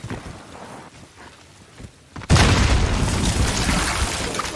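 A frag grenade goes off in a Call of Duty Modern Warfare team deathmatch: after quiet game ambience, a loud, close blast strikes about halfway through and settles into a sustained roaring, rumbling tail.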